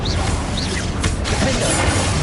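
A Confringo blasting spell is cast in the Hogwarts video game, giving a short, sharp burst around a second in that sits over a steady, dense background of game noise.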